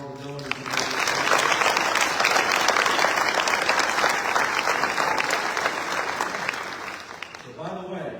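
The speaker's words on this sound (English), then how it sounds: "But how about a round of applause for all the donors?" At a family scholarship award ceremony at Fort Cavazos, an audience gives the donors a full, sustained round of applause that swells quickly and holds steady for several seconds before tapering off at the end.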